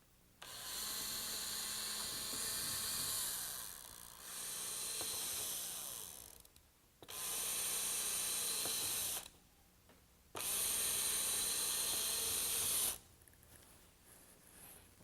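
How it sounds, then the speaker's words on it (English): A power drill whirs in three bursts of a few seconds each, drilling 1/8 inch holes along a boat panel, separated by short pauses, loud and close with no talking. "now I'm going to drill these series of 1/8 inch holes the length of the panel"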